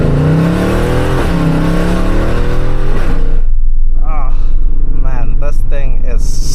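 A Mercedes-Benz C63 AMG W204 with a 7-speed AMG Speedshift gearbox in manual mode, its engine loud and close while driving, with a strong rising rev that drops off and then settles into a rumbling cruise.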